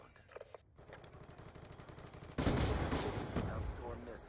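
Gunfire from the Black Ops 2 video game, a steady run of shots under low game ambience that becomes suddenly louder and denser midway, with rapid bursts continuing to the end.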